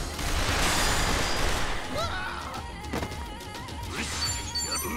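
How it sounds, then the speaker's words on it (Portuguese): Pistol shots fired during combat in the video game Like a Dragon: Infinite Wealth, sharp reports mixed into a dense, loud clatter of crashes and impacts, with a voice now and then over the action. "Tiro de pistola."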